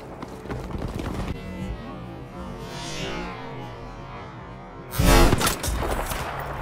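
Gunfire from the Battlefield V video game: a loud close burst of shots lands near the end, after a stretch of quieter rattling action and distant noise.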